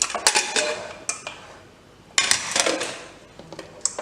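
Metal clatter of a pressure cooker lid being handled and lifted after the pressure is released, a few sharp clanks and scrapes up close, with quiet pauses between bursts.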